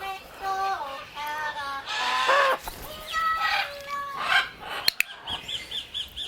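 A parrot in a training session gives a run of repeated whistled squawks and calls, moderately close, in several short clusters with brief pauses and a couple of sharp clicks.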